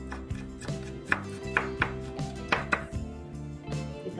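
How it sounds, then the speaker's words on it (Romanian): Sauerkraut being chopped very finely with a knife on a board, a quick series of sharp, close knife strikes in uneven bursts over a low background hum. "O tăiem foarte mărunt"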